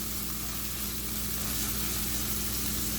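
Steady, close sizzling of ginger and garlic frying in a hot pan for chana chaat, a constant crackling hiss with no talking.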